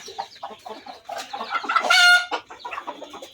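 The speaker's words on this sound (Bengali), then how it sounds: "মোটামুটি মুরগি পুষে আছে এখন 4টা" Chickens cluck and squawk close by in a coop, a quick run of choppy calls rising to one louder drawn-out squawk, then settling back into short clucks.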